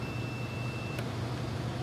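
A steady, high-pitched multimeter continuity-test beep holds for about a second and then cuts off, heard over a low background hum.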